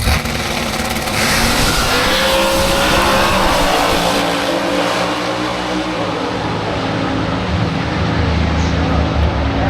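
Drag race car engines at Bristol, a loud, continuous roar with revving and a sustained howl that fades slightly near the end, no talk.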